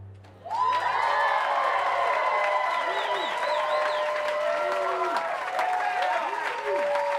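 An audience at a gallery music performance breaks into sustained applause for a string section, with clapping and scattered whoops starting abruptly and holding steady to the end.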